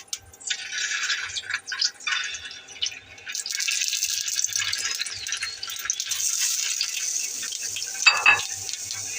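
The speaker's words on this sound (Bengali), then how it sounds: "তেল গরম হয়েছে, এখন ডিমগুলো ছেড়ে একটু ভাজবো।" Eggs fry in hot oil in a pan for an egg curry, giving close, intermittent bursts of bright sizzling and crackling that settle into a steadier spatter.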